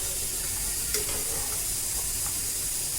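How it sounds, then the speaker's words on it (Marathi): A bhatura deep-frying in hot oil, a steady broadband sizzle and bubbling hiss throughout with a faint clink near the start, close and even with no talking. "अजून एक भटोरा लाटून घेतलेला आहे तो पण छान तळून घेते"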